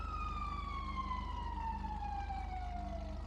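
Police sirens in a roleplay video game wail in a long, slowly falling sweep, sounding distant and steady over a low rumbling drone.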